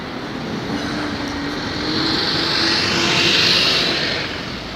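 A train rumbles past at East Croydon station, a broad steady roar that swells to a peak and then begins to fade, with no voices.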